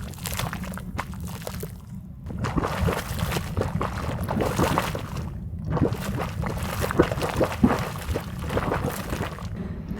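A geothermal steam vent in the Alvord Desert of eastern Oregon bubbles and hisses from the ground, a steady gurgling, sloshing rush at close range with faint voices now and then.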